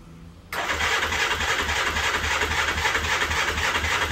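After a brief quiet moment, a Suzuki GS425L motorcycle engine abruptly catches and starts with the choke on, then runs steadily with a loud, rough rumble.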